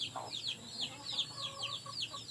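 Chickens cluck softly in repeated short calls, a few birds chattering at a moderate distance.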